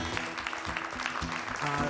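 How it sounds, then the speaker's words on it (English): Applause from an audience at a live music event, a steady wash of clapping that fills the whole moment, with faint musical tones and some voices underneath. "so let's give them a big round of applause."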